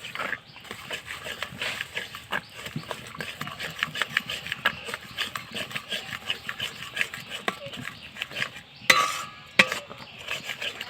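Green peas are stirred into a spiced masala in a wok for a spinach, pea and gram-flour dish. Repeated clicking scrapes of a utensil against the pan carry over a soft sizzle throughout.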